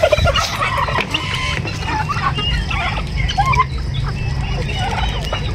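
Turkeys gobble and cluck while feeding on scattered yellow corn among chickens, in bursts of several calls at close range over a continuous farmyard background.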